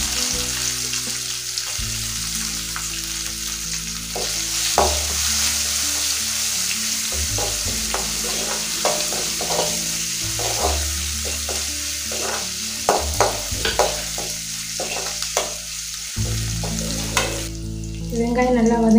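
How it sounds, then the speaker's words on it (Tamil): Onion sautéing in hot oil with curry leaves and asafoetida for tomato rice, a close continuous sizzle over a long stretch with repeated spatula scrapes and clinks against the pan, background music underneath. "வெங்காயம் நல்லா வதங்கிடுச்சு"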